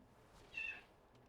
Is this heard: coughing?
no